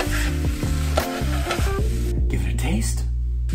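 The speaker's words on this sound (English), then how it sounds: "Give it a final stir and turn the heat off." Scrambled tofu sizzles loudly in a hot pan as it gets a final stir, a dense continuous frying hiss with tonal, voice-like sounds layered over it.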